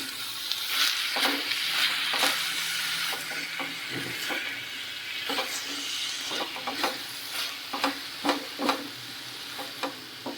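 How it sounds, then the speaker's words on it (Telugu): Coconut ladoo mixture with cardamom powder being stirred in a pan makes a continuous sizzle with a rapid run of scraping, tapping strokes from a spoon against the pan, close and fairly loud, with no talk. "ఇలాచీ పౌడర్ వేసుకొని మొత్తం అంతా బాగా మిక్స్ చేసుకొని స్టవ్ ఆఫ్ చేసుకోవడమేనండి మళ్ళీ ఒకసారి మిక్స్ చేసుకున్నామండి"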